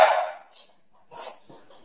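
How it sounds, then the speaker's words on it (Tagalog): A dog in a home kitchen in Switzerland barks at the smell of meat, one short close bark followed by faint yips and whimpering sounds. "Kaya po yan tumatahol."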